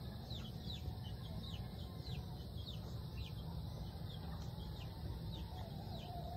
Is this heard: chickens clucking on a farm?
yes